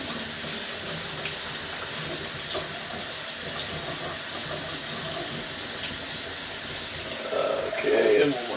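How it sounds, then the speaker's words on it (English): Uncooked rice being rinsed and swirled by hand in water in a kitchen to wash off starch, a steady watery rush with soft sloshing throughout, close and moderately loud, with a brief louder splash near the end. "I like to agitate it around so that I can get as much starch off the rice as possible."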